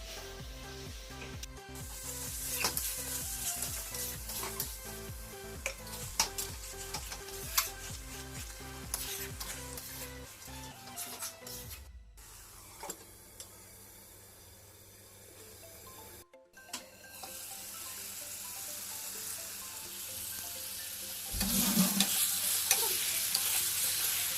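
Tomatoes frying with biryani masala over low heat, with a soft continuous sizzle and repeated spoon stirring and scraping, pausing briefly midway before the frying resumes louder near the end.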